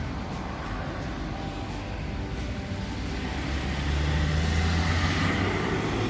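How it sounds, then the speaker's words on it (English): Heavy trucks rumble past on a road right beside an outdoor plant nursery, a steady low drone that swells louder toward the end as a vehicle draws near, with no talking. "Just mind the truck noises because we right next to a road."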